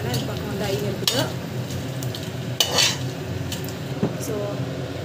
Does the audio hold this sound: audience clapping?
no